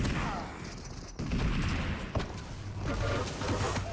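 A railgun shot rings out in a competitive 2v2 Quake match, heard amid dense, continuous weapon fire and game effects, with a sharp crack partway through.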